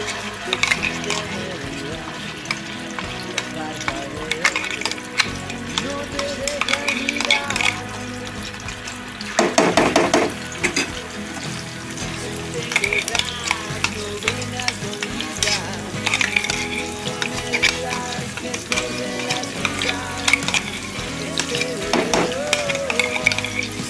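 Ground masala paste fries in about three ladles of oil for a stuffed capsicum dish, giving a continuous bubbling sizzle with repeated stirring scrapes, faint talk and other kitchen sounds in the background.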